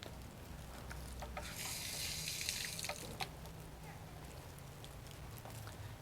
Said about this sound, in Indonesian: Siram aja deh Mar.